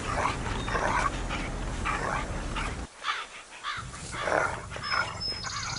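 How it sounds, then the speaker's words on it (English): A dog barks and yips repeatedly, with whimpering and panting mixed in, loud and close, during a short pause near the middle. "So Dave is just a dog"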